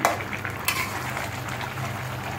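A continuous close sizzle and crackle of frying fills the moment as a curry cooks in a pan on the stove, with a couple of brief clinks near the start.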